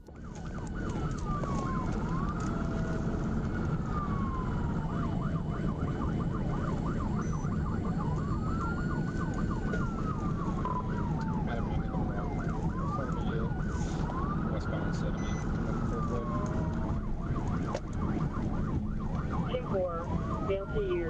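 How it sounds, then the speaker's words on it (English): A state trooper's police siren wails continuously during a pursuit, its rising and falling sweeps repeating over steady road and engine noise from inside the moving police vehicle. "the trooper activated lights and sirens, officially initiating a pursuit"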